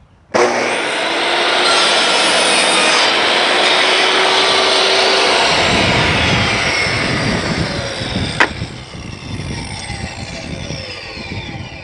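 A table saw with a sliding miter slices a 45-degree cut through wood, a loud sustained whine and rasp as the blade bites, then a sharp knock and the blade winding down alone.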